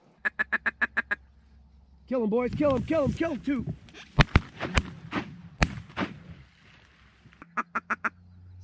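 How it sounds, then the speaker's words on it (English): Mallards and teal quack in a short run of sharp, evenly spaced calls at the start and again near the end, with hunters talking excitedly and loud shotgun blasts between them during a pothole duck hunt in Alberta. "a bunch of ducks"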